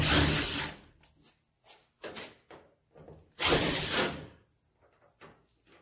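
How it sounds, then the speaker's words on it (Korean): A power screwdriver removes screws from the top panel of an LG front-load washer, sounding in several short whirring bursts with pauses between them, one longer burst in the middle, close and fairly loud. "나사를 풀고요."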